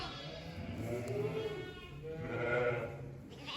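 Sheep and lambs bleating in a loose chorus, several overlapping wavering calls close by, with a steady low rumble of farmyard background.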